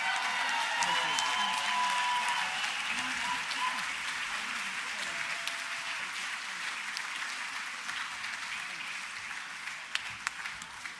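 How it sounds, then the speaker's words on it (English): Sustained applause from a large audience at the British LGBT Awards 2021 ceremony, a dense, steady wash of clapping and crowd noise that slowly eases over about eleven seconds, with a few sharper claps near the end. "I think that deserves one more massive, massive round of applause"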